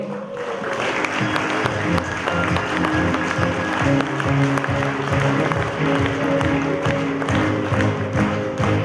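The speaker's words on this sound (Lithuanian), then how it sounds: "Nepagailėkime aplodismentų." A crowd at an award ceremony applauds steadily for the winners, a dense, sustained wash of clapping with rhythmic thumping underneath that fills the whole stretch.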